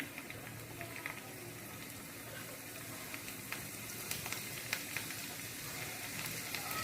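Hing and garlic sizzle in hot oil for a tadka, a soft steady frying crackle with small pops scattered across it, faint and close, with no voices.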